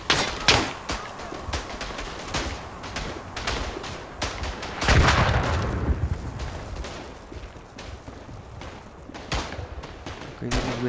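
An artillery strike with gunfire in the WWI video game Verdun brings rapid rifle and machine-gun shots and heavy booming impacts, loud and close. Voices talk over the din.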